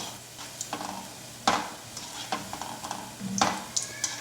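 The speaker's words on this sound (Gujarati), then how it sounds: "મીડિયમ ફ્લેમ પર તળીને તૈયાર કરીશું મૂઠિયાને આ રીતે કન્ટિન્યુ ચલાવતા આપણે તળી લેવાના છે" Surti dana muthiya dumplings fry in oil over a medium flame and are stirred continuously, making a soft, steady sizzle broken by a few sharper scraping and stirring knocks.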